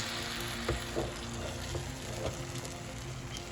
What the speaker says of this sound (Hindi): जो मैंने प्याज, टमाटर और ग्रीन चिली ऑयल में हल्की सी ब्राउन कर ली थी, उसके अंदर अब मैं ये जो एग का सारा मटेरियल है ये डाल दूँगी